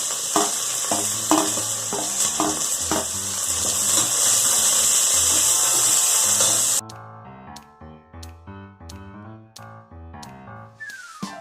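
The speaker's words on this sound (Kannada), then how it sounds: "ಇದು ಎಣ್ಣೆನಲ್ಲಿ ಫ್ರೈ ಆದಮೇಲೆ ನೀವು ಈರುಳ್ಳಿ ಹಾಕೊಳ್ಳಿ, ಕರೆಕ್ಟಾಗಿರುತ್ತೆ" Onions frying in hot oil for a South Indian tomato bath give a steady, loud sizzle for about seven seconds over background music, then the frying sound drops away and only the music continues.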